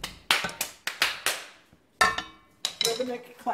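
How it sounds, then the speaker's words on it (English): Sharp hand claps in a loose rhythm of quick bursts with brief pauses, close and bright, made out of excitement. "Rhythmic clapping from excitedness."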